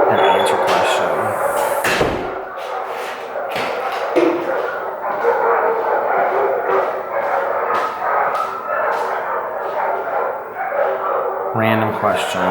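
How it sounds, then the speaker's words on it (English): Several dogs bark and yip in bursts throughout, mixed with a busy background and people talking over them. "those dogs"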